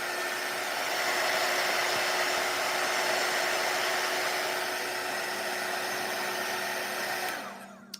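Hair dryer blowing steadily on fresh paint in an art studio, a loud even whir holding for about seven seconds before switching off abruptly.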